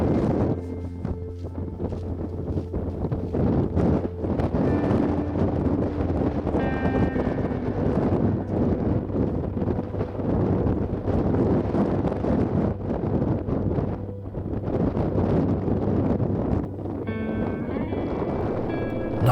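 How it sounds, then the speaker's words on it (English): Strong icy wind buffets the microphone on open ground, a loud continuous roaring rumble with gusty swells and dips, over faint intermittent tones. "not only was it very windy, but that wind was icy cold"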